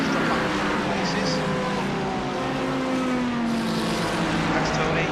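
Race cars, including a BMW and a Ferrari on cold tyres, roar continuously as they battle for position, a loud sustained engine drone under a commentator talking throughout.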